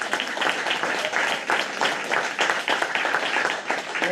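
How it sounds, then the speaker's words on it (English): Audience applause for presenters at a school board of education meeting, a moderate, steady patter of many hands clapping in a room, lasting a few seconds. "And a round of applause for our presenters."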